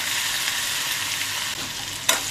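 Green chili thecha frying in hot oil with cumin, curry leaves, asafoetida and turmeric, a steady close sizzle with a sharp stirring scrape near the end.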